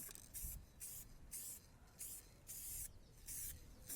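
Aerosol spray paint going onto a Skoda Fabia Mk1 sill in short repeated bursts, roughly a dozen close hissing spurts separated by brief pauses, with no other sound.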